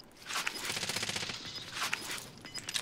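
Automatic gunfire in the Warzone video game: long, rapid bursts of shots rattle continuously at close range, with a few sharper cracks standing out over the steady volley.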